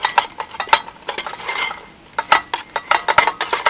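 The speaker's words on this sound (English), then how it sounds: "We're gonna go ahead and give them a little stir." A utensil stirs air-fried potatoes in a metal basket, making a string of close, sharp scraping clinks and rattles in irregular bursts, with a short quieter pause in the middle.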